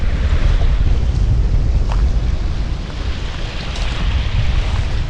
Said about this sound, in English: it's a little windy, but not as bad as yesterday